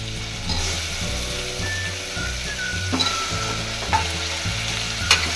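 Eggplant and other vegetables frying in oil for a sprouted-legume sambar produce a loud, continuous close-up sizzle, with a few light spatula clicks and pulses of stirring throughout.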